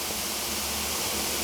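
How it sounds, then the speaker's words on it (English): Carbonated spring water fizzes and bubbles around rocks, a steady, close hiss like a freshly opened soda, continuous and even throughout with no voices. "It sounds like you just opened a can of soda pop, because that's literally what it is."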